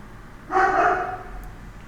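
A pet dog gives a single short bark at middle distance, standing alone against a quiet room background.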